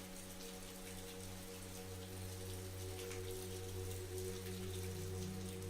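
Steady rain falls on a farm, a dense, even patter of drops on surfaces that stays constant and fairly loud throughout, with a faint low hum beneath and no voices.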